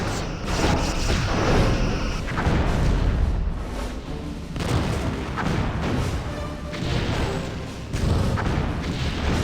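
Torpedo fire in the Star Trek Bridge Commander space combat game: a loud, continuous barrage of heavy booming blasts and rumbling impacts overlapping one another for several seconds.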